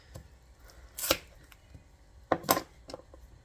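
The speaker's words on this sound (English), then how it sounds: "Cut a little bit of butter here." A knife cuts through butter with two brief, crisp strokes a second or so apart, quiet and close against a still background.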